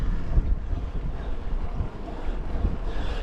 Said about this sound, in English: Steady headwind up here.